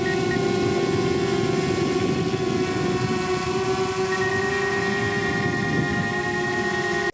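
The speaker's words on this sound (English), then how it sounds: "I think it's one of the loudest drones that I've tested out thus far." DJI Mavic Air compact drone flying nearby, a loud, steady, high-pitched motor whine with a constant rushing hum that holds throughout without a break.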